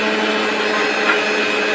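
A mixer grinder blends mango pulp with a little water, a steady loud whirring motor roar that runs continuously at close range with no pauses.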